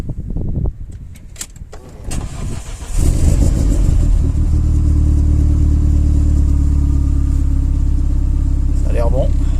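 Renault Megane RS after a thermostat change, engine cranked and catching, then settling into a loud steady run up close, after a few clunks and faint talk outdoors in wind and cold.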